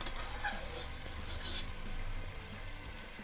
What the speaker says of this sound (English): this is just the water frying with the oil